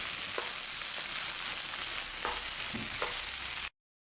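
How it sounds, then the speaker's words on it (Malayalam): Rice fries and is stirred in a hot pan for chicken kabsa, with a steady close sizzle and a few soft scraping stir strokes. No one speaks, and the sound cuts off abruptly at the end. "അരി വറുത്തതിന് ശേഷം നമുക്കിതൊന്ന് മാറ്റി വെക്കാം"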